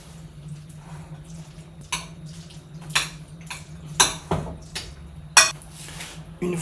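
Ingredients are mixed in a bowl with a utensil, giving irregular clinks and scraping knocks against the bowl, with some wet stirring sounds and a low hum underneath.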